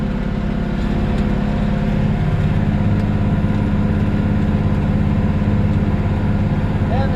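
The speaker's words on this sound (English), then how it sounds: "Tractor is pulling this drill pretty good." Tractor pulling a seed drill across a field at about 5.5 miles an hour, a loud, steady low engine drone with constant rumble throughout and no pauses.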